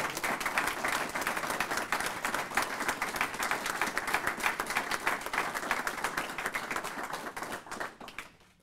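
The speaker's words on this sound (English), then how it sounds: "let's give a big round of applause to the 2014 Pace Award winners" An audience at the 2014 Pace Awards ceremony applauds the winners with vigorous, crisp clapping that runs steadily for about eight seconds before quickly tapering off into silence.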